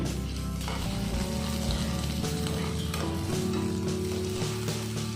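Chopped tomato and spinach frying in a pan for palak paneer make a loud, close, unbroken sizzle, stirred throughout, with a low steady hum beneath.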